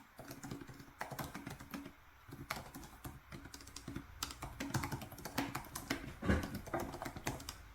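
Fingers type on a computer keyboard in irregular bursts of close, crisp key clicks throughout, as someone writes a novel.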